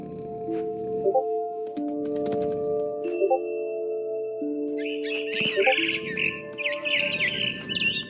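Bird chirps from a mother bird in the video game What Remains of Edith Finch, short bright tweets scattered through the latter half over sustained melodic game music tones and clinks.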